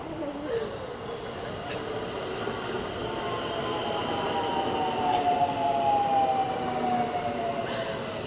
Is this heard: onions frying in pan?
no